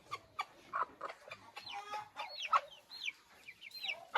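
Near, busy poultry sounds from a mother bird with chicks: a steady run of soft clucks broken by sharper calls and chick peeps, with no talking.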